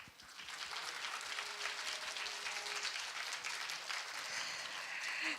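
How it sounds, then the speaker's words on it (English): An audience at the close of the Asia Pacific Food Regulatory Authorities Summit 2024 claps in a steady round of applause. The dense, even clapping carries on for several seconds before tapering slightly. "why don't we give another round of applause to each other for the cooperation and hard work."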